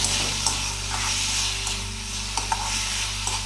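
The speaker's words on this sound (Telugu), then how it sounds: "మళ్ళీ కొద్దిగా కలుపుదాం" Turmeric and salt being stirred into a gangavalli leaf curry in a pan, a low steady sizzle with soft scraping stir strokes recurring every second or so, close and moderately quiet.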